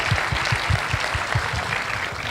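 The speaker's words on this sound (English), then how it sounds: "So a very big round of applause, guys." Audience clapping at a startup event, a short burst of steady rhythmic applause from a crowd, moderately loud and heard alone.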